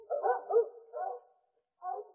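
Dogs in a fable bark in three short bursts, the first two close together and the last after a brief pause, clear and fairly near with no talk over them.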